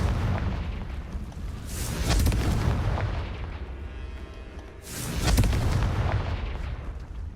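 Confringo explosive spell blasts in the Hogwarts Legacy video game, two loud booming bursts with rumbling decay over a continuous rumble of game ambience.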